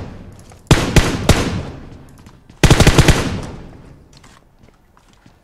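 Gunfire in the mobile battle game PUBG Mobile: two loud bursts of rapid automatic shots, each a quick volley of several cracks that trail off, with quiet gaps between them.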